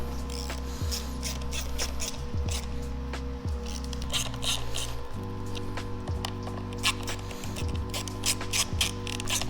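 Bolts being tightened on a carbon fiber rear lamp cover of a Honda Rebel 500 (CMX500) motorcycle, giving repeated close ratcheting and rubbing mechanical clicks over a steady low hum, with no talking.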